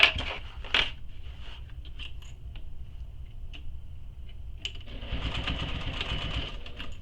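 A sewing machine stitches the full seam allowance on a bowler bag, running steadily with a whirring, ticking needle rhythm that grows busier toward the end, close and moderately loud with no talk.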